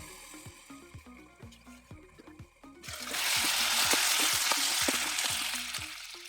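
Tomatoes and curry leaves fry in a pan. Rhythmic tapping comes first, then a loud, close sizzle swells up and holds steady for the last half, with no voices.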